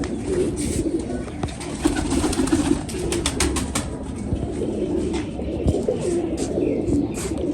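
Pigeons coo repeatedly in soft, throaty rolling calls close by, with scattered clicks and light rustling in the background.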